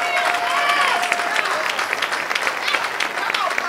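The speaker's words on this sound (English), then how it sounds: "I wish somebody would clap your hands and praise the Lord" A church congregation claps their hands in praise during a sermon, a steady wash of crowd clapping with voices and cries mixed in throughout.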